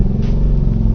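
Motorcycle close alongside, a loud, steady low engine rumble filling the short moment without pause.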